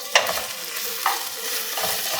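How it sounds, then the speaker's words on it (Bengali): Chopped ginger, garlic and tomato stir-fry in a pan, giving a continuous close sizzle with a few sharp scrapes of a spatula against the pan. "3 থেকে 4 মিনিট ভালো করে কষে নেব, যতক্ষণ না কাঁচা গন্ধ যাচ্ছে আদা রসুনের।"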